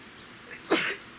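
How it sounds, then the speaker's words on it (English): A single short sneeze bursts out at close range during a quiet pastel painting session, preceded by faint background hiss. "Just sneeze, that's all."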